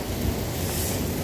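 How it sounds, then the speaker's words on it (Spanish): Rain falls heavily and water runs off outdoors in Monterrey during a cold front, heard as a dense, steady hiss and wash of noise with some wind rumble, loud and close throughout the brief moment. "está cayendo el agua ya por ahí. Vean, está lloviendo."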